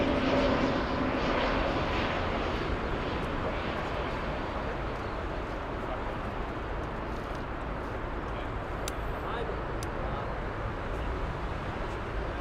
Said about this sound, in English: This is Aegean flight 13 inbound from Athens, Greece